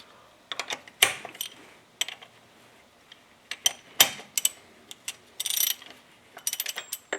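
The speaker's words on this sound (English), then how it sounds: "Now I'm going to tighten it with my 1/16" socket, which is a deep socket, which will fit over it, no problem." Ratchet wrench with a deep socket tightening an oil pressure sender switch on a 1995 Subaru Legacy, giving quick bursts of close, crisp clicking in several uneven strokes with short pauses between them.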